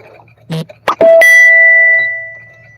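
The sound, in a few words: chime notification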